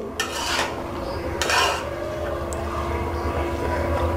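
Fried onion greens are stirred in a pan with a utensil, two loud scraping bursts early on followed by lighter clinks over a steady background hum, close by and with no talking.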